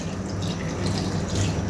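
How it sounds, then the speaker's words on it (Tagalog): A cup of water poured into a cooking pot holding sweet potato and cassava for ginataan, a steady close splashing and trickling stream that runs continuously and alone for under two seconds. "Lagay lang tayo ng isang tasang tubig."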